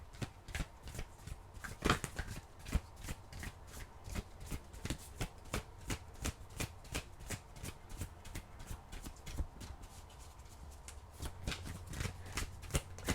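A deck of oracle cards is shuffled close up, quick papery riffles and taps repeating in an irregular rhythm with no talking.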